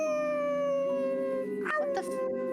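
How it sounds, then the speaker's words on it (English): A puppy gives a soft, yippy howl, a sustained high wavering tone that slides gently downward and breaks into a few short yelps near the end. It is clear and close, with no other sound around it. "instead of hearing the normal howling that you hear this very soft-sounding and much yippier"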